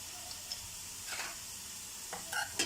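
Potatoes frying in a pan for a spicy potato fry, with quiet sizzling and a few soft stirring scrapes and clinks spread across a low, steady background.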